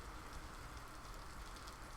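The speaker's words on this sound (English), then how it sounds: "No, that's probably the rain that you're hearing." Steady, dense crackling patter of rain, a continuous fine hiss with no pauses, fairly quiet and even throughout.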